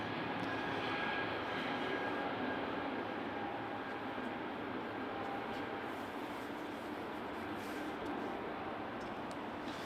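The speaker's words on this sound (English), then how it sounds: "So let's follow the Emirates 777." Emirates Boeing 777 jet at Amsterdam Schiphol Airport, a steady loud broadband engine roar that holds constant throughout with no talk.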